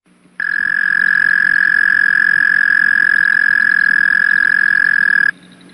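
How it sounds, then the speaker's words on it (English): A loud, steady, high-pitched trill from a single Canadian toad, continuous for about five seconds before stopping abruptly, like an alarm. "So let's listen to the Canadian toad."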